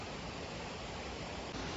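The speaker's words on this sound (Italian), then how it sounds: "vedete qui sotto si snoda la cascata della Sofia" Cascata della Sofia, a waterfall in the Dolomiti Bellunesi, roars as a dense, unbroken wash of rushing water, loud and constant throughout, with no voices.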